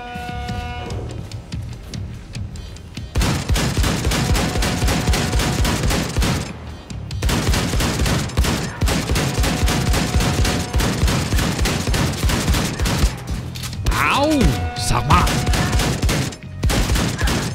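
Dense, loud gunfire from the shooter Wolfenstein II pours out in sustained automatic bursts, with a short quiet gap near the start and another midway, and a couple of brief warbling tones cutting through.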